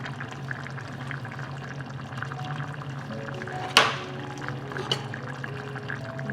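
Water poured into a simmering pot of Algerian couscous broth with chicken and vegetables, a soft steady bubbling and trickle with a brief splash midway, fairly faint and without talk.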